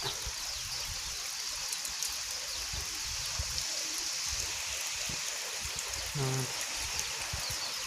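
Rain falling over a newly planted, flooded rice field, a continuous broad hiss of drops on water, steady and fairly close, with a brief voice-like sound near the end.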